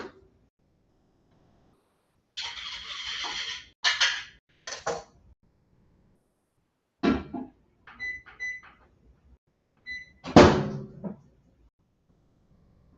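Kitchen microwave oven at home, heard as several short clunks and rattles of the door and handling, a few quiet beeps and a louder final bang, separated by silence.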